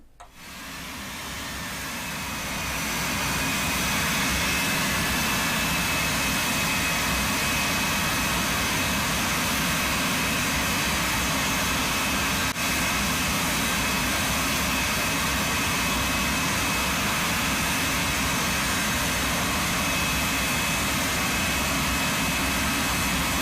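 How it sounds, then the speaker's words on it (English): An L-39 Albatros jet's engine roars loudly and steadily, building over the first few seconds into a sustained broadband whine and rush with a high-pitched tonal edge that holds throughout. "it's regarding a certain L-39 Albatros jet"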